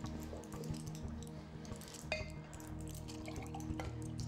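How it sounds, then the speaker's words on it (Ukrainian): Water poured from a container into a glass indoors, a soft trickle with small drips and a light clink, heard quietly under a steady tonal music bed. "я зараз налю вам води"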